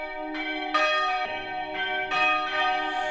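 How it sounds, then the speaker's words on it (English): Church bells of Pastor Hummel's church ring out for Sunday service, several bells striking in overlapping, sustained peals with long resonant tails, loud and clear with no talking. "The bells of Pastor Hummel's church summon the faithful to Sunday service."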